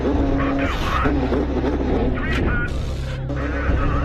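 IndyCar race car engines fire up on the grid at Pocono, a dense, loud roar of several cars at once with a commentator talking over it.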